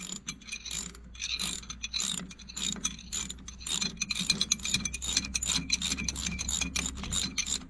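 A socket wrench ratchets in quick, close clicking bursts while the motor is being pulled from an Allis-Chalmers G tractor, with continuous mechanical rattling and no talking.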